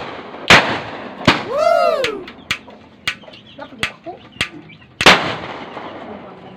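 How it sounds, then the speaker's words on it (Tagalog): Homemade firecrackers go off outdoors in a string of sharp, loud bangs at irregular intervals, some close and booming, others quicker pops, with a rising and falling whistle-like sweep between them. "Paputokin na naman nila ulit."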